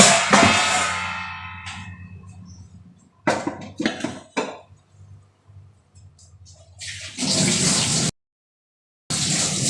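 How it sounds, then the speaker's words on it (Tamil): Hot water pours for pirandai pachidi in a home kitchen, a rushing splash at the start, then clinks and handling knocks, and later two more bursts of steady pouring separated by a short silence. "இந்த அளவுக்கு தான் தண்ணி நான் பாய்ப்பேன்"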